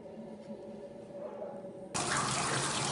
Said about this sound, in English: the wine drips down to the tray under the press